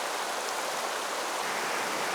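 A shallow stream of water flows over rocks beside a waterfall with a dense, even rushing hiss, close and continuous, with no voices.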